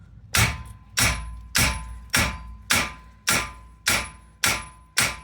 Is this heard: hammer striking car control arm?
yes